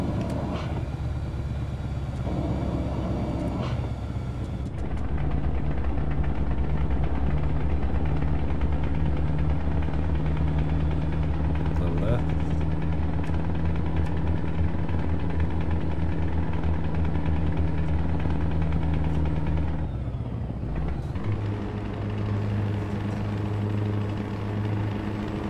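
An old heavy truck in the video game Euro Truck Simulator 2 drones steadily at idle, loud and continuous, dipping briefly near the end before resuming its rumble.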